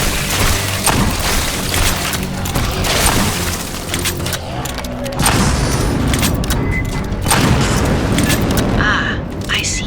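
In the sci-fi shooter Aliens Fireteam Elite, weapons fire at capacitors in bursts of rapid shots and impacts. Crunching breaks and booms play throughout over game noise, and voices are mixed in.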